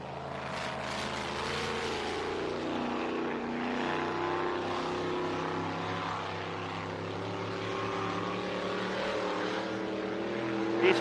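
A racing speedboat at a runabout and speed boat club meet drones steadily through its warm-up lap, a strong sustained engine tone with harmonic layers, loud and fairly close, slowly swelling with no talk over it.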